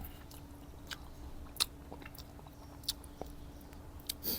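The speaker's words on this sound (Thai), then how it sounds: "เนี่ยอยากให้ได้ยินเสียงไข่ ขอบขอบมันกรอบดีครับ" Quiet, close-up chewing of a crispy-edged omelette with occasional sharp crisp crunches scattered over a few seconds, no talking.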